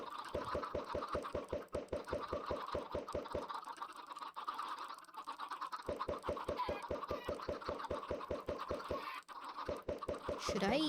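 Chickens in a video game sound in two long runs of rapid, evenly spaced pecking or clucking clicks, with a short gap between them, over a steady background of game sound effects.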